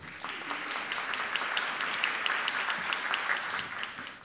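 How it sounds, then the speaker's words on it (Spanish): Audience applause at an awards ceremony for inclusive businesses in Miraflores, a steady, moderately loud clapping from a crowd lasting several seconds with no talk over it. "para quienes pido un fuerte aplauso"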